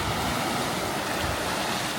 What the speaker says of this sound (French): Et il y a quand même des grosses vagues.